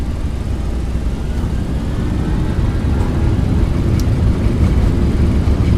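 Boeing 737-800NG engines spooling up to takeoff thrust in the X-Plane 12 flight simulator, a loud, steady jet roar that holds without a break.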